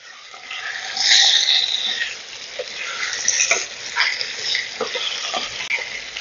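Potatoes being stirred with turmeric and chilli powder in a pan over medium flame, a steady close sizzle of frying with scraping stir strokes throughout, no talking.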